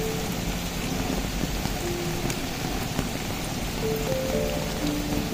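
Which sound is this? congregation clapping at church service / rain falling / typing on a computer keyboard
rain falling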